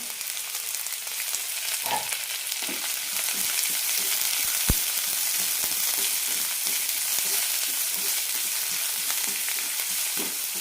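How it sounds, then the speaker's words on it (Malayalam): Chopped onion, green chilli, ginger and curry leaves sautéing in a pan with two teaspoons of oil and mustard seeds, giving a continuous close sizzle with occasional light spatula scrapes and one sharp tap, no voices. "സവാള ഒരു മിനിറ്റ് നന്നായി വഴറ്റിയെടുക്കാം"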